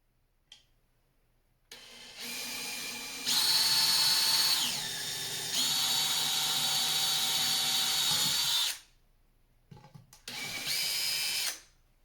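Power drill boring a 2.5mm hole through the top of a hydrofoil mast set on a wooden block, the motor whining in several loud sustained bursts that shift pitch as the bit cuts, with short pauses between.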